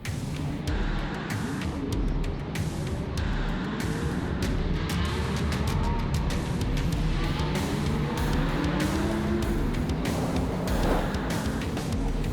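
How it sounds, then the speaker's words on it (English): Race cars running the formation lap at the Dubai Autodrome during a 24-hour endurance race make a continuous, loud engine roar, with several cars droning and passing at steady volume. "the formation lap about to get underway"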